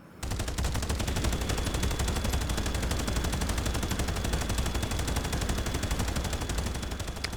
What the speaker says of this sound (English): now we see how low and high accuracy stats affect a minigun while we're stationary on the ground, but what happens if we're moving around actively as we shoot?